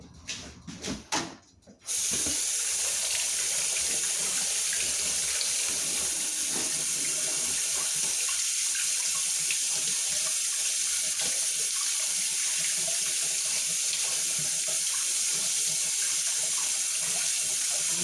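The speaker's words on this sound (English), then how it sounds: "Rinsing off my hands." A kitchen tap runs as hands are rinsed under it. A short clatter comes first, then a steady, close rush of water pours into the sink for the rest of the time, with no voices.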